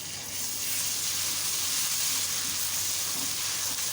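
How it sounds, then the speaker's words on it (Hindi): Garlic, ginger and green chilli paste sizzling in a pan with fried onions, a steady bright hiss of frying that holds evenly throughout, close and with no talking. "अब लहसुन अदरक और हरी मिर्चों का पेस्ट डाल दें।"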